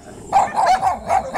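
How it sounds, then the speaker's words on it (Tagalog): A dog barks several times at a house in the Philippines, a quick run of close, fairly loud barks with no talk in between. "May aso dito."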